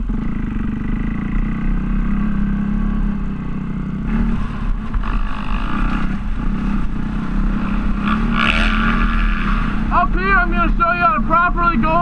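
Motorcycle engine running steadily with gear changes and throttle blips, a rider pulling the clutch and shifting up while moving, with rising revs near the end.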